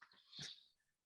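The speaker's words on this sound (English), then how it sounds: "That's my dog for you." A dog gives a short, faint, high whine-like happy vocal noise, a single squeaky rising call lasting about a second, heard alone and close.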